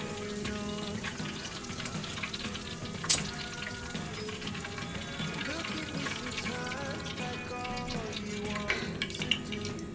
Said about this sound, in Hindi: हमारी चिकन कांडी दोनों तरफ से अच्छी तरीके से फ्राई हो चुकी है